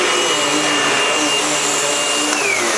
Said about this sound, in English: this is a new vacuum my wife and I picked up at Walmart the other day. It's a Eureka